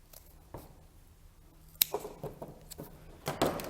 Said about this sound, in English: Now I'll take a scissors and just cut this down.